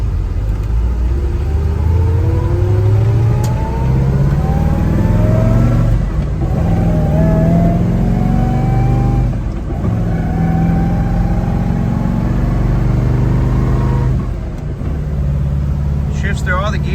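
A 1966 Chevrolet Chevelle SS accelerates on a road in morning traffic, engine rising in pitch and dropping at each gear shift, several upshifts in sequence, loud and close throughout.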